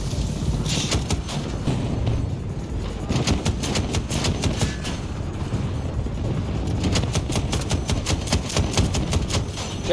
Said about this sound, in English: Oh, stop shooting at me!